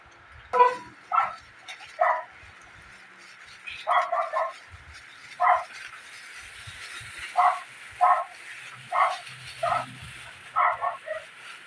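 A neighbour's dog barks repeatedly at a distance, single and double barks spaced irregularly, over a quiet background.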